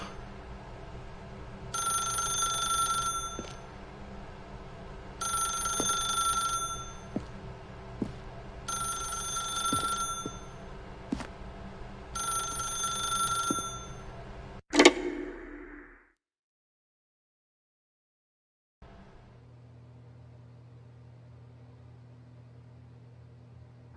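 A telephone in the video game The Stanley Parable Ultra Deluxe rings in four evenly spaced bell bursts, then the handset is picked up with a sharp clunk, followed by silence and a low hum.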